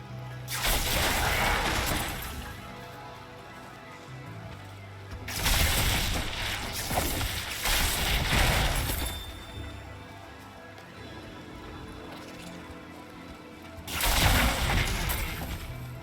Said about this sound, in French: Un peu mal les explosions quand même.